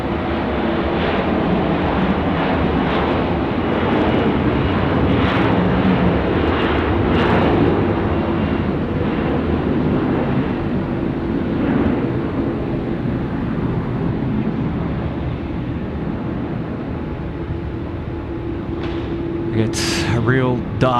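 An Airwork aircraft departing Sydney Airport at night gives off a steady, distant jet engine roar that fills the whole stretch, while someone talks over it.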